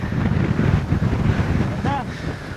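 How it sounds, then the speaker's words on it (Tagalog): Strong mountain wind on Mt. Williams, San Jose, Nueva Ecija, buffets the microphone in a steady, rough roar, with a brief faint voice-like wobble near the end. "Malakas lang yung hangin"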